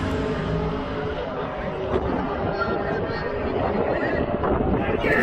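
A drag race car launches down the strip at Atco Dragway, with dense, roaring engine noise and heavy wind buffeting that stay loud and steady throughout.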